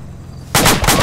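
Loud burst of gunfire in a Vietnam-era video game, an abrupt blast with a few rapid follow-up bangs over a heavy, rumbling mix.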